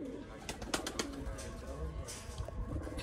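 A rare net-patterned pigeon coos softly nearby, with repeated low throaty calls over faint background noise.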